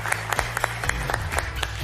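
Studio audience clapping on a French television game show, a dense steady patter of many hands filling the whole stretch at moderate loudness with no talk over it.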